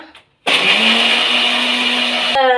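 Soaked soybeans and water are ground smooth in a mixer grinder jar for homemade tofu. The motor starts abruptly after a brief pause and whirs loudly and steadily, close up, then cuts out near the end.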